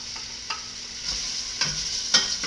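Onions frying in heated vegetable shortening over medium heat, a soft continuous sizzle broken by a few brief scraping stirs at regular intervals.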